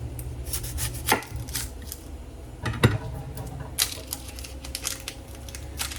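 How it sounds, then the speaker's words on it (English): A knife slices the ends off a medium-sized onion on a cutting board: a run of crisp, close taps and chops, some sharper than others, with no talking. "I'm just gonna cut off the ends of the onion."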